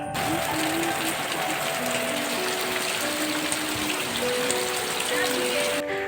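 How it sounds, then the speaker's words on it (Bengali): Steady, dense hiss of heavy rain pouring down throughout, with faint tonal sounds and a few distant voices underneath. "আর দেখো কত বৃষ্টি হচ্ছে"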